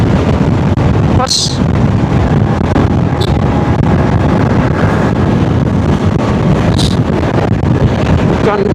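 Strong wind buffets the microphone in a constant loud roar, with a few brief high squeaks cutting through.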